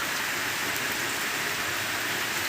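Heavy rain pours down outdoors in a dense, even roar of drops, loud and unbroken throughout, with no voices.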